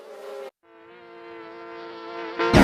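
A close, droning buzz of insects hums steadily, briefly cutting out, then returns and swells slightly louder before a sharp noise at the end.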